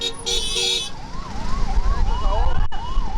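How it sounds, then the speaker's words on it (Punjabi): An ambulance siren wails in rising and falling sweeps through jammed traffic on a Ludhiana road, loud and steady beneath engine rumble, with a brief horn-like blare at the start. "ਉਧਰ ਪਿੱਛੇ ਐਂਬੂਲੈਂਸ ਆ ਰਹੀ ਹੈ"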